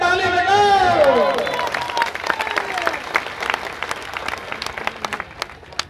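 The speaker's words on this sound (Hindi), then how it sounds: "बात समझ में आती है तो ताली बजाओ।" Crowd applause at an outdoor political party rally speech in Tarapur, rising after a loud voice over the first two seconds, then continuing as scattered, fairly dense clapping that thins toward the end.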